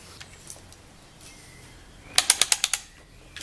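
Ratchet clicking as a bolt is worked loose on a Ferguson plough: a quick run of about six sharp, evenly spaced clicks close by, with quiet background before them.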